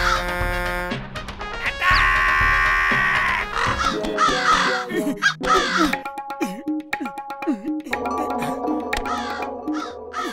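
Cartoon crows caw repeatedly while attacking in single-line formation, loud cartoon caws layered over music and sound effects, with a brief spoken voice.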